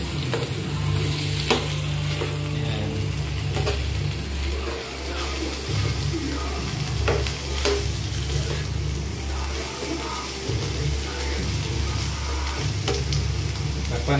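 Squash (kalabasa) being stirred and sautéed in a pan for pinakbet, a continuous sizzle with repeated scraping stirs throughout, voices speaking intermittently.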